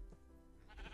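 A sheep bleats in the Minecraft video game: one short, quiet bleat standing alone.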